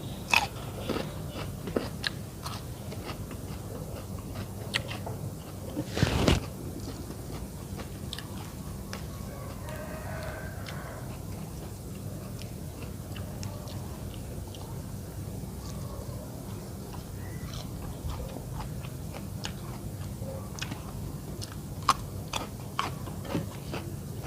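Someone eats crunchy stir-fried fresh eel with vegetables right up close. Repeated crisp bites and chewing crunches continue over a steady background hiss, with one louder burst partway through.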